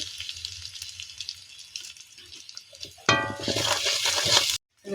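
Turmeric and chilli frying in a pan for a village-style taro-leaf dish with prawns: a low crackle first, then a loud, close burst of sizzling that cuts off abruptly near the end.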